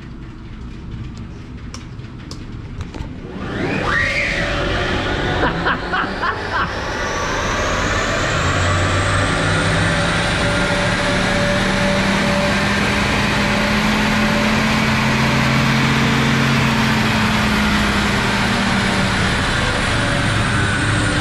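Renault Twizy being tuned on a rolling road dyno, a loud sustained drivetrain and roller roar that builds after a few seconds with a rising whine, continuous and close.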